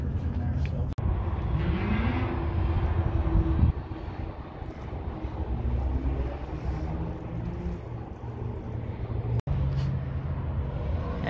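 A 1976 International Cargostar truck engine runs rough on primer gasoline, a steady low rumble with wavering tones that holds throughout and cuts out briefly twice; someone speaks over it.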